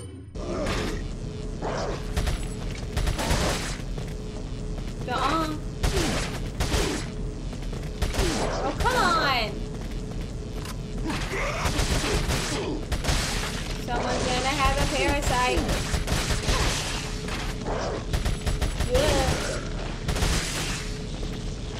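Shotgun blasts from Resident Evil 4 on PS5 ring out as a scattered series of sharp, booming shots mixed with mechanical clacks and creaks, with a person talking over the action.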